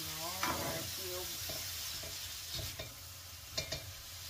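Noodle mix sautéed in a pan, a steady sizzle with repeated utensil scrapes and stirring knocks, close and fairly loud, with brief harmonic voice-like tones early on.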